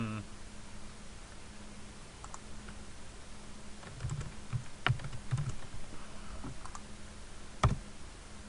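Typing a login name and password on a computer keyboard, with soft irregular key clicks that cluster toward the end, a few sharper taps, and faint background noise.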